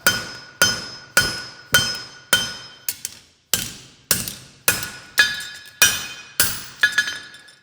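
A hammer strikes hot metal on an anvil during forging: about a dozen sharp, ringing blows in a steady rhythm, each tailing off with a bright metallic ring, close and loud with no talking.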